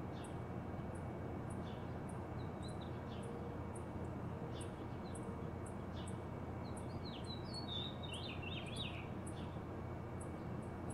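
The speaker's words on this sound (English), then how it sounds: "much of that chip noise you hear is one or more chipping sparrows on the ground." Repeated short high chip notes of chipping sparrows on a lawn tick out in a steady series over a constant low rumble, with a few brighter chirping calls near the end.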